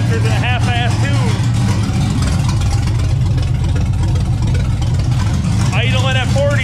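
A Ford LTD Crown Victoria 2-door with a swapped LS V8 engine idles with a steady low rumble, while people talk over it in short bursts at the start and end.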